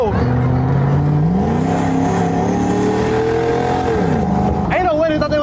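A Tesla accelerates hard during a car race, heard from inside the car as a loud, rising electric whine that climbs in pitch, dips, then surges again.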